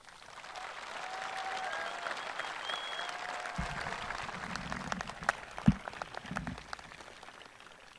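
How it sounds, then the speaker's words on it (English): A graduation audience at a high school ceremony claps for the graduating students, a faint, distant wash of applause that thickens midway with a few louder, closer claps. "take one more moment to do a round of applause for the students"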